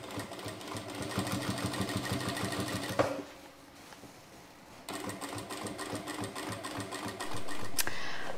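Sewing machine stitching the lining of a warm jacket, a steady close mechanical whir running most of the clip with a brief slower pause in the middle and no talking.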